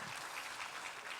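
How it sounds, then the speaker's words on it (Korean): A church congregation applauds after a pastor's greeting, dense and even clapping from many hands filling the whole moment, fairly faint and distant-sounding, with no distinct voices. "인사하는데 박수치는 교회 처음 봤습니다."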